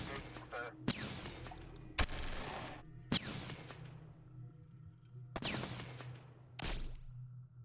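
Infantry assaulting tanks in the strategy game Shadow Empire, with several sharp separate gunfire bursts and bangs, each trailing off into a rattling decay, spread across a quiet background.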